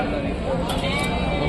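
Goats bleat amid steady crowd chatter at a Tuesday goat market in Rajarampalli, with a short wavering call rising briefly over the busy background voices.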